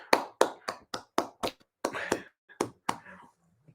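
Several sharp hand claps in a fast, slightly uneven series, close and fairly loud, with a brief murmur of voices partway through.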